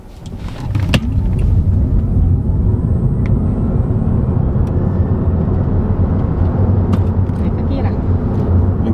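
A Tesla Model 3 accelerating hard from 0 to 100 km/h, heard from inside the cabin as a steady, loud low rumble of road and tyre noise that holds throughout, with occasional faint clicks and no clear speech.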